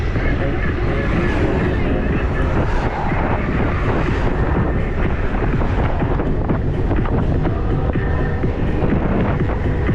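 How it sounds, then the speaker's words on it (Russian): Strong wind buffets the microphone on a spring coastal route through Crimea, a loud, continuous rumbling roar that gusts unevenly throughout. "Ветер, падла."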